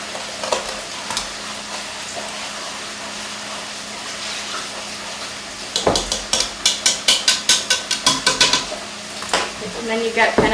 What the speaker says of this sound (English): And you want to whisk all that up.